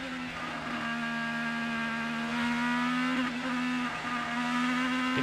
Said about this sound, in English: You can hear the throttle application.